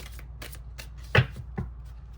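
Tarot cards drawn from a deck during a reading, giving soft scattered riffles and brushes with one sharper slap of a card, close and fairly quiet with no talking.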